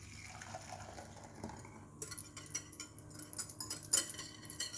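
Custard of milk, eggs and sugar poured back into a metal saucepan on the hob, a soft liquid pour with light clinks of pan and utensils, close and quiet, no talking.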